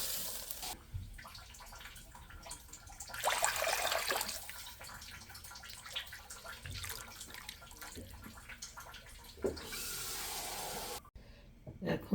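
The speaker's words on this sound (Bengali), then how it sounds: "এখন পানি দিয়ে দেবো," Six cups of water are poured into a pot for corn soup, a splashing, gushing stream that rises and falls in a few bursts over a quiet room, then cuts off near the end.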